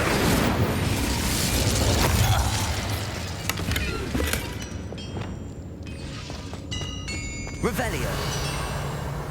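An Incendio fire spell is cast in Hogwarts Legacy: a loud burst with a roaring, crackling whoosh that fades into quieter crackles and pops. A voice talks over it.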